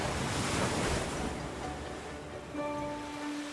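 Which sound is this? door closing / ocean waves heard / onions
ocean waves heard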